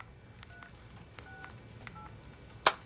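A desk telephone keypad is dialed to reprogram call forwarding, giving a run of short, evenly spaced dial-tone beeps over a quiet office hum, followed by one sharp click near the end.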